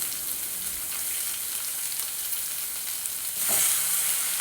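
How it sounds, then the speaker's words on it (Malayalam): Tomatoes tossed into a pan of frying onion, ginger and garlic for chickpea curry: a steady close sizzle that surges into a louder hiss near the end, with no one speaking. "നമ്മുടെ തക്കാളിയും കൂടി നമുക്ക് ആഡ് ചെയ്യാം കേട്ടോ"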